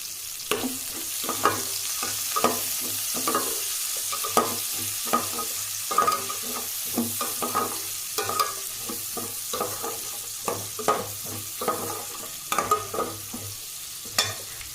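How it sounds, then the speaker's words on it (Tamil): A large chopped onion sautés in hot oil, with repeated close scraping stirs of a spoon over a continuous sizzle, the strokes coming in an irregular rhythm throughout. "அந்த பெரிய வெங்காயத்தை போட்டுக்கலாம். போட்டு வதக்கிக்கலாம்."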